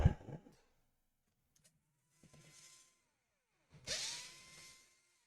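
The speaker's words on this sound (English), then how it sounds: "let's unscrew all the screws on the bottom of the laptop" Screws being undone on the underside of an MSI GS66 Stealth 10FS laptop, with short whirring bursts from a small electric screwdriver separated by quiet pauses, close and fairly soft.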